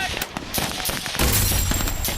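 Rapid gunfire crackles through a battle scene, dense irregular shots and bursts stacked close together, growing heavier and fuller partway through, loud and continuous.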